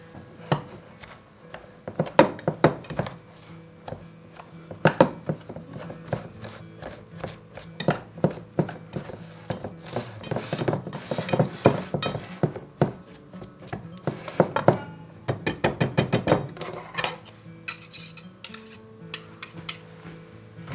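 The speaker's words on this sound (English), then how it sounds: "I'm going to take my pastry blender and I'm going to cut the butter into the flour mixture" A pastry blender cuts butter into a flour mixture in a bowl, giving repeated crunchy chopping and scraping strokes with metal tines knocking against the bowl, loud and close, in uneven bursts with no talking.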